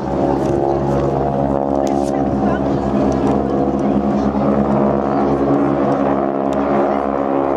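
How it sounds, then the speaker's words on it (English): A Boeing Stearman Cadet biplane fitted with an upgraded 450 horsepower engine drones steadily at an air show, its loud, continuous engine tone holding throughout with a voice talking over it. "These aircraft have been upgraded to give them a higher performance. We give a 450 horsepower engine."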